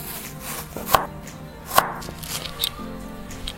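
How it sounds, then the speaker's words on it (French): A knife slicing a peeled red onion on a board, two sharp chops close up amid softer cutting and handling noises. "Je vais couper mon oignon rouge."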